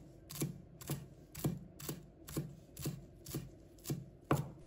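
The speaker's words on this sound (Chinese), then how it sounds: "把它切成小段" A kitchen knife chops a bunch of coriander into short pieces on a board, ten evenly spaced crisp thuds about two per second, close and fairly quiet, with no talking.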